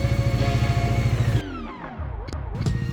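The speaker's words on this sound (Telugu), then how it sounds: "బండి ఇలా మీరు స్టార్టర్ ప్లేక్ పెట్టగానే స్టార్ట్ అయిపోయింది" A motorcycle left unused for three months runs at a loud, close, lumpy idle, then cuts out abruptly, and after a short gap clicks and clatters before the engine fires again.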